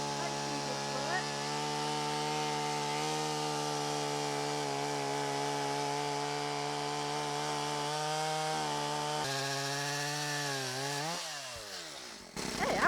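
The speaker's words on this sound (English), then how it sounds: "we're just going to use the chainsaw to chop him off" A chainsaw bites through a large wooden field post, its engine holding a steady loud whine that bogs and shifts pitch near the end as the cut finishes, with no voices over it.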